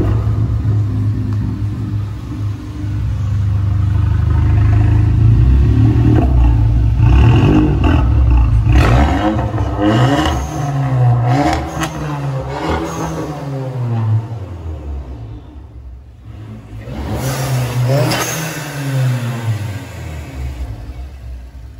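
A tuned VW Golf GTI Mk7 engine idles low, then revs hard several times, climbing and falling in sharp sweeps with crackling on the overrun. One more loud rev follows a brief dip, close and powerful, with no talking.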